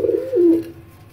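A single soft, low pigeon coo, close by and clear, with a quiet background.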